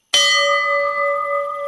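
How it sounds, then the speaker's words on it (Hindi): A temple bell rung once for the morning aarti gives a sharp metallic strike, then a clear, sustained ringing tone that hangs steadily without fading much. "पास के मंदिर में सुबह की पहली आरती के लिए पुजारी जी ने घंटी बजाई।"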